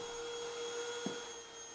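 A Hoover vacuum cleaner running as a sound effect, a steady droning motor whine with a high tonal hum and a brief bump midway.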